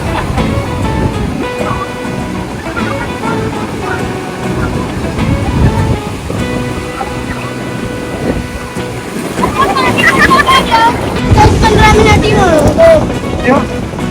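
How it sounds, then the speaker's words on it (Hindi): Sea waves wash in around people standing in the water at a seaside viewpoint, a loud continuous surge and splash that grows heavier toward the end, with voices talking over it. "उतना हैवी आ रहा है पानी"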